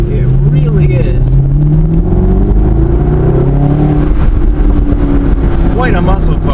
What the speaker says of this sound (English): It backfires, it's loud, it's ridiculous, it's quite a car.